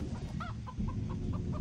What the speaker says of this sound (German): Das ist ein Huhn.